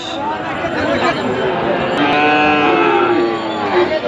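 Sahiwal bull calves moo again and again at a crowded weekly cattle market in Raniganj, the loud drawn-out lowing carrying over steady crowd chatter and nearby voices.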